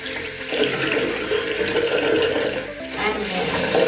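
Hot tap water running steadily into a bathroom sink, a continuous close splashing wash lasting throughout with a brief dip near the end.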